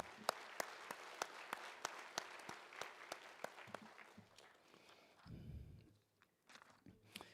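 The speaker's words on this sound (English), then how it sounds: "we want to give them a big round of applause" Sparse, evenly spaced claps ring out at an awards banquet for a stock car speedway, quiet and distinct, then thin out after a brief low rumble near the end.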